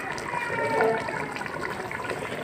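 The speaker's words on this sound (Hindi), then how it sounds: "अब मैं डालती हूँ इसमें थोड़ा सा पानी" A brief gush of water poured into a hot pan of frying meat, hissing and bubbling, with a soft voice underneath.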